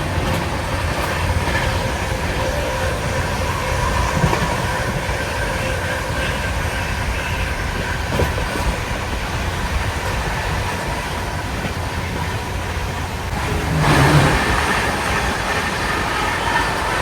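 The Karnataka Sampark Kranti Express (12650, Hazrat Nizamuddin to Yesvantpur) runs on the rails with a steady, loud rumble of wheels and carriage noise throughout, heard from onboard, with a brief swell of rattling near the end.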